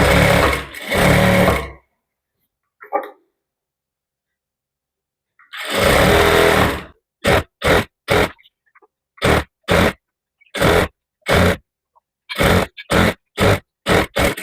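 Sewing machine stitching piping onto blouse fabric, running in a long burst, pausing, then firing off a rapid series of short loud stitching bursts with brief gaps between them.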